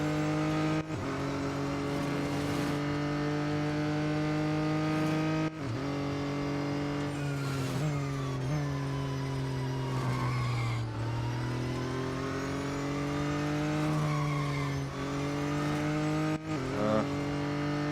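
An Acura ARX-06 race car in Real Racing 3 drifts with a steady, loud engine drone whose pitch rises and falls through gear changes, with brief dips and tire noise.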